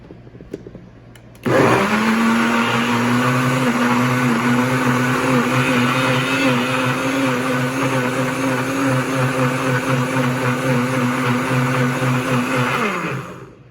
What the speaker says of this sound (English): and now I'm ready to blend it